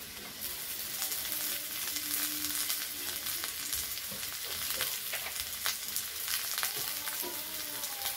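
Potatoes and slit green chillies fry in a pan, producing a dense, steady close sizzle with scattered crackles and pops, with no voices.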